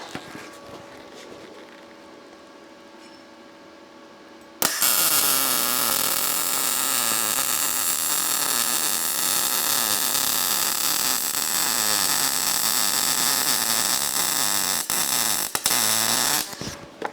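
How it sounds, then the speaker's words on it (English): A YesWelder MIG 205 DS welder lays a bead on tubing, with a steady crackling, sizzling arc of dense close noise that starts abruptly after a quiet hum and runs about twelve seconds before cutting off, with no talk. "It's been a little bit since I've welded tubing."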